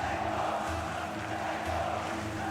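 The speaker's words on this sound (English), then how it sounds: "Wow, the crowd is loud." A loud, sustained roar from the arena crowd at a Rocket League RLCS LAN Major championship event fills the whole stretch as a dense, steady wash of cheering, with no distinct voices standing out.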